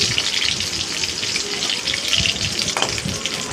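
Shallots and green chillies fry in sesame oil for a tangy tamarind curry, giving a close, continuous, rushing sizzle that holds steady throughout with no one talking.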